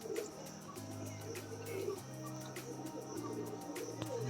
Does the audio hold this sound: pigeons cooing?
yes